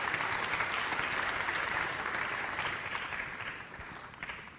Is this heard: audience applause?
yes